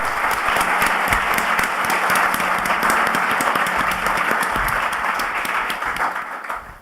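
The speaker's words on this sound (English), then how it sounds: "Please give a round of applause to welcome him." An audience at a CFA Society event gives loud, sustained applause welcoming investor Howard Marks, many hands clapping close and dense before tapering off at the end.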